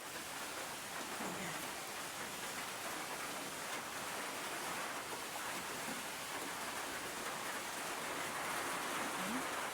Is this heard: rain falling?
yes